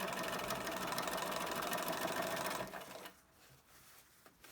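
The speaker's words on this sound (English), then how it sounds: "you're literally just going to sew right on the edge." Sewing machine stitching bias binding right along a raw fabric edge while making a bumbag, a steady close whirring hum for about three seconds that then stops, leaving faint rustling.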